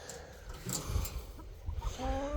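Chickens cluck softly nearby in short, scattered calls, ending with a clearer drawn-out cluck over faint background noise.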